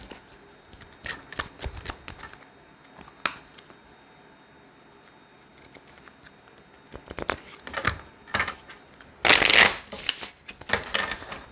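Tarot cards are shuffled in quick, soft riffling bursts, quiet at first and louder toward the end, with brief pauses between shuffles.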